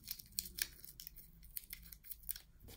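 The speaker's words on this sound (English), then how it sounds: "I'm gonna do the little rolled up ball of tape with the sticky side out." Tape torn from a roll and rolled sticky side out into a small ball for a tree canister craft, a quiet, close series of crisp rips and crinkles in an irregular rhythm.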